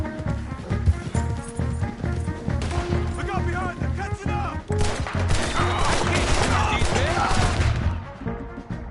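Gunfire in the video game Red Dead Redemption 2, repeated rifle and pistol shots and crashing impacts in a busy shootout, mixed with game music and characters shouting.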